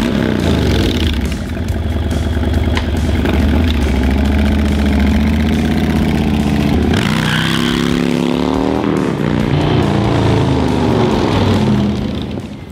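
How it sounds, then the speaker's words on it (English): A 2022 Harley-Davidson Low Rider ST motorcycle engine runs loud and close, a deep lumpy idle that swells into revs midway and then settles back into a throbbing rumble. "So yeah, it's a nice, big, torquey, purring engine"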